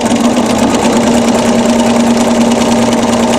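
A sewing machine runs at steady high speed, giving a loud, continuous mechanical hum with a rapid, even needle rhythm. The machine is quilting a round wreath feather design.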